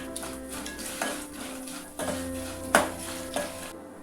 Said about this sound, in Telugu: ఇప్పుడు వీటిని దూరగా ఫ్రై అవ్వనివ్వాలండి. ఈ పల్లీలు, శనగపప్పు, మినపప్పు అంతా చక్కగా వేగిపోవాలన్నమాట.